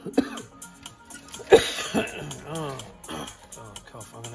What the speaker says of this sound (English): Oh, cough.